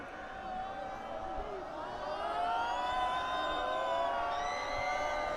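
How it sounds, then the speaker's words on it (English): Rugby crowd at a schoolboy First XV match jeering the kicker as he lines up a conversion, a loud, rising mass of voices and whistles that swells over several seconds and stays strong, with commentary over it. "The Raukura crowd giving it to him, reminding him where he's at."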